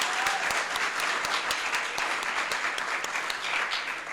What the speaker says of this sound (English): We clap right there.